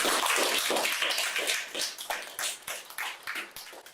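Applause from an audience at an academic talk on dialectical materialism: dense, steady clapping from many hands that thins into scattered, separate claps as it fades, heard close with no talking.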